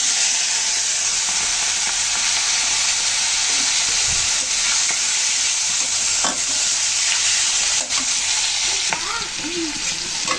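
Prawns sizzling loudly in a hot pan, a constant frying hiss with occasional stirring scrapes and clanks of a utensil, close up and without talk.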